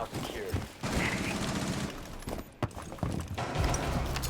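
Rapid bursts of automatic gunfire and blasts inside a shooting video game, loud and close, broken by brief pauses, with someone talking over the shots.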